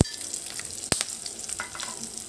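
Chopped cashews frying in hot oil with asafoetida and finely chopped curry leaves for Pongal, a steady close sizzle broken by a sharp clack of a spoon against the pan.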